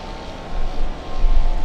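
Jet airliner taking off at LAX airport, a steady far-off engine roar that swells gradually into a louder rumble, heard alone without talk.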